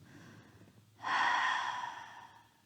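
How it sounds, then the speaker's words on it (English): A single slow open-mouth exhale, soft and close, begins after a quiet pause and fades gradually over about a second and a half. "taking a breath in. And maybe taking an open mouth exhale"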